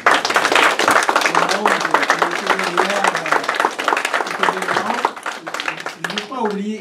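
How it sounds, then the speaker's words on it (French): Audience at a diversity colloquium in Montreal clapping in a dense, steady burst of applause that continues for several seconds, with voices mixed in over the clapping and tapering near the end. "on applaudit les..."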